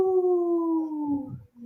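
A person imitates a wolf howl with one sustained, steady tone that slowly falls in pitch and breaks up at the end, loud and close, on a radio show.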